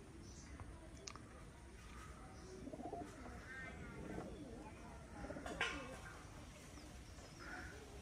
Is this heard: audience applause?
no